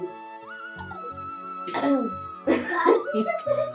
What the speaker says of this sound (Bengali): কাশি লাগছে।